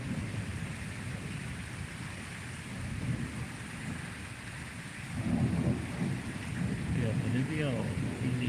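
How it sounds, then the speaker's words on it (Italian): Night rain pours steadily during a stormy spell, with deep thunder rumbling through it. The rumble swells louder in the second half. "piove, i lampi ci sono, i tuoni pure."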